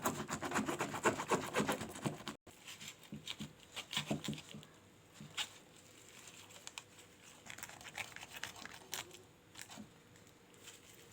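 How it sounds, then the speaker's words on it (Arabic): A knife cutting the head off a salted fesikh fish, giving close, crackly scraping and crunching with irregular soft taps, fairly faint throughout. "نبدا ان احنا نقطع الراس كده"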